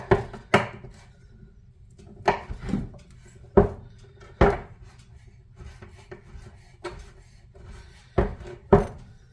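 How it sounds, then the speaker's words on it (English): Rough chopping of dried figs on a board: a series of sharp, close knife thuds in irregular rhythm, some spaced apart and some coming in quick pairs, with no talking. "And I'm just going to chop,"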